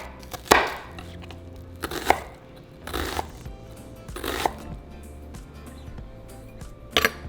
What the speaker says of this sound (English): we're going to chop all of our veggies